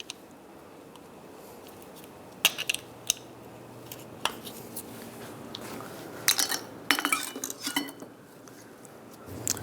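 Caps on a 1998-2010 Volkswagen Beetle brake caliper pried off with a screwdriver or pick: a handful of sharp, close metallic clicks and clinks spread over quiet workshop background, with no talking.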